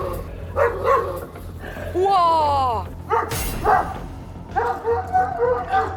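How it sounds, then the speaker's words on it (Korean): A Dalmatian and other dogs in a multi-dog household bark in short bursts with a whimpering yelp in between, close by, while people talk and exclaim around them. "예, 뒤쪽에서 짖습니다."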